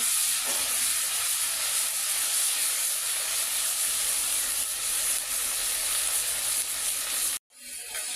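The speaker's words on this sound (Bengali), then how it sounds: "মশলা কষানো হয়ে গেলে পুঁই দিয়ে আমি কষাই আর রান্না করবো" Malabar spinach is stir-fried with spices in a pan, giving a continuous, fairly loud sizzling hiss that runs alone for about seven seconds before cutting off abruptly.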